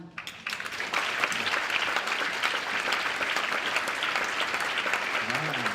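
Steady applause from a conference audience at a Slovenian tourism plenary session, a dense even wash of clapping that carries on for several seconds with faint talk near the end.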